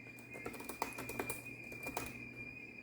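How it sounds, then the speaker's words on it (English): Keys clatter in an irregular run on a Microsoft Surface Laptop Studio keyboard, a dozen or so soft, quick taps close by over a faint steady hum, with no talking. "So that keyboard feels amazing."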